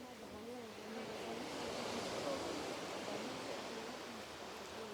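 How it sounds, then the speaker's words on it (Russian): Steady, soft, broadband wash of sea surf along the Sochi seafront near Navaginskaya Street, heard from a distance at fairly low level and swelling slightly in the middle, with no talking over it. "Шум моря."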